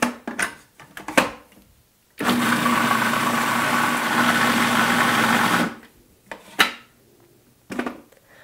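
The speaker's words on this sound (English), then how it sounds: "So everything's in the Cuisinart and I am just going to process it till it's nice and smooth." A Cuisinart food processor purees baba ganoush in one steady, loud whirring burst of about three and a half seconds, with clinks and knocks of handling the bowl before and after.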